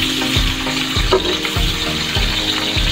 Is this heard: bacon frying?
yes